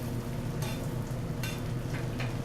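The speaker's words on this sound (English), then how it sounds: "So, we probably cook this side maybe a minute." Fish frying in a pan with sage and aromatics gives a steady close sizzle with a dense low crackle throughout, plus a few brief brighter bursts of spattering oil.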